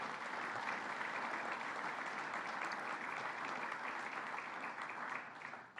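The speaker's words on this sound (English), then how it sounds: "Let's give him a round of applause." A crowd at a government announcement applauds steadily for several seconds, dense even clapping that fades slightly at the end.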